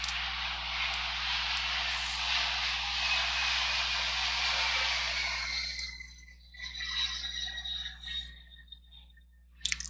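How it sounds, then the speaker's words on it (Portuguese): An airplane passes overhead, its broad engine roar steady for several seconds before fading into the distance, with a constant low hum underneath and a brief sharp noise at the very end. "Avião."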